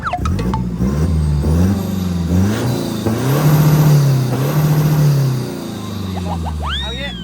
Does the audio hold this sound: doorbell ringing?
no